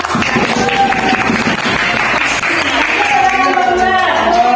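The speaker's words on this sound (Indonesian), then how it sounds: "Tepuk tangan untuk kelompok." A classroom of students claps for a student group, a loud, dense patter of applause close by with voices mixed into it throughout.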